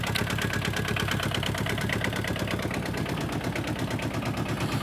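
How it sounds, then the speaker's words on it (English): An Aixam Mega Multitruck van's small engine idles with a fast, even chugging pulse that stays steady and close throughout, with nobody speaking. "I think I'll stop the engine."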